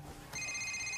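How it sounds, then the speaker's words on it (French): A telephone rings indoors in a French romantic film scene, its bell tone starting abruptly partway through and sustaining steadily and clearly, with no talk over it. "Laissez sonner."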